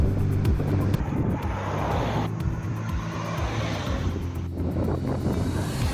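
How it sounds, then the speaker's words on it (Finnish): Strong wind buffets the microphone while cycling through Norway and Sweden, a steady loud roar and rumble with gusty fluctuations throughout and no talk. "Ja tuulee ihan vitusti."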